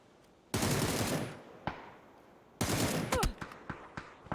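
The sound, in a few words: gunshots in the video game PUBG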